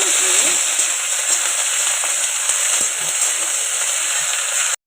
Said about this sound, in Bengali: কপিটা তেলে দিয়ে দিয়েছি ভাজার জন্য